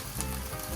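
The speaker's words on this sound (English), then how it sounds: "In the same pan, we're gonna fry our aubergine." Aubergine fries in oil in a pan, a dense, steady sizzle with fine crackling that holds evenly through a short moment.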